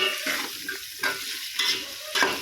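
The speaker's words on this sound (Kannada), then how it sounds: "ಫ್ರೈ ಮಾಡ್ಕೊಂಡಿದ ನಂತರ ಆನಿಯನ್ ಈರುಳ್ಳಿ ಹಾಕೋಬೇಕು" Onions frying in a pan: bursts of sizzling hiss rise and fall roughly every half second, with stirring scrapes between them, close and fairly loud.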